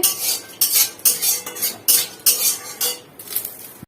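Fried bori is lifted from the pan and set into a bowl, making a run of sharp metallic clinks and scrapes in uneven bursts, close and fairly loud.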